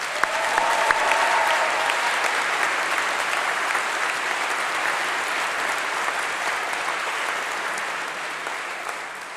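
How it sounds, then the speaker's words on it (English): A graduation congregation crowd breaks into a sustained round of applause, dense clapping that swells early and then holds steady, loud and filling the hall. "Give yourselves another round of applause"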